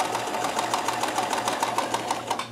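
A Kenmore 158.1914 sewing machine runs steadily in chain stitch mode, a close, continuous rapid whirring with an even mechanical needle rhythm throughout.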